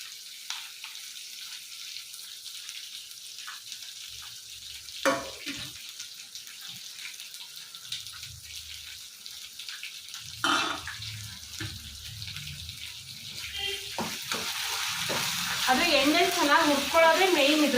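Coriander leaves sizzle and crackle in a hot pan for mint chutney, quiet at first and then louder with scraping stirs, with a burst of hissing and bubbling toward the end; no one speaks.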